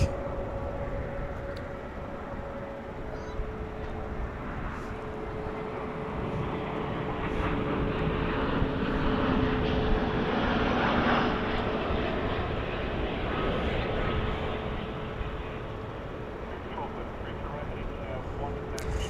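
A Frontier Airlines airplane passes at DFW International Airport, its jet engines a broad roar that swells and fades over many seconds, with people talking nearby.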